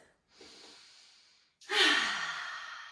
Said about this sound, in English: Taking a few deep breaths in and out of the nose.